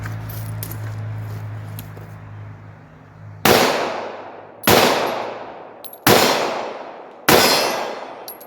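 Four sharp, loud shots from a Taurus 1911 pistol ring out at an outdoor range, evenly spaced about a second apart, each followed by a ringing decay, after a quieter stretch of background hum and faint clicks.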